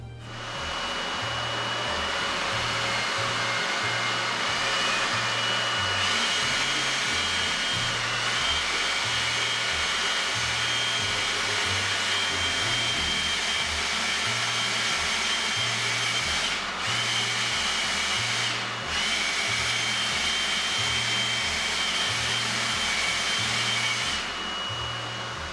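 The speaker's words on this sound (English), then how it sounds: "I'm gonna use this blower from here to get it onto the stream of that blower" A blower pushes air in a loud, unbroken roar that runs steadily throughout, with a low rhythmic pulsing underneath and no one speaking.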